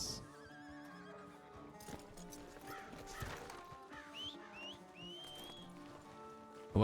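A horse in Red Dead Redemption 2 whinnies several times over steady hoof clip-clop, with game ambience and some rain-like hiss underneath, moderately quiet throughout.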